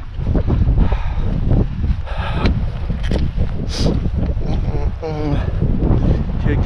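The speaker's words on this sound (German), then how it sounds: "hier geht der Wind schon richtig ordentlich drüber." Strong wind sweeps over an alpine mountain ridge on a Tyrolean hiking trail, a loud, constant blustery rush buffeting the microphone, with someone talking over it.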